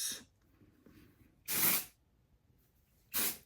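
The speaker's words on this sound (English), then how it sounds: "So this is where I'm going to use dry shampoo." Two short, loud bursts of Living Proof Perfect Hair Day dry shampoo sprayed onto hair during a beach-wave styling session, each hiss lasting about half a second with quiet gaps between.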